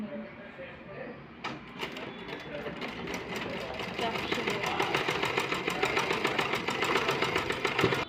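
A sewing machine stitches a blouse, its steady rapid whirr building louder and more insistent after a quieter start, running continuously under a voice explaining the seam.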